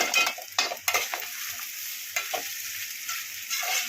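Sabudana khichdi sizzles and fries in a pan while being stirred, with soft scraping strokes and a steady crackle, close and moderately quiet, no voices.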